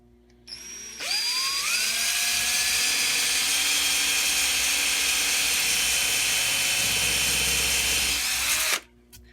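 A power drill spins up and runs loud and steady for roughly eight seconds, its pitch climbing briefly at the start before holding even, then stopping sharply, with no voices.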